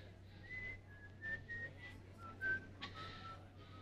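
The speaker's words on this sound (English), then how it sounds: "I can't think if you're going to whistle" A man whistles a short, wandering tune softly, with faint background hum and low room noise, heard on its own without speech.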